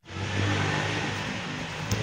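A new Honda Elevate car drives with its engine running steadily close by, a continuous mid-pitched hum with a slight rev near the end and no talking.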